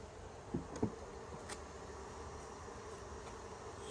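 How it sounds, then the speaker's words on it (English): Agitated honey bees buzzing around an open hive during an inspection, a faint continuous drone with a couple of brief close passes. "There's a bunch of pissed off bees right now."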